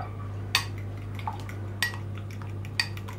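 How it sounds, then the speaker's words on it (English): Omelette ingredients whisked in a bowl with seasoning, a steady soft swishing broken by a few sharp clinks of utensil against the rim, close and quiet over a constant low hum. "I mix them again."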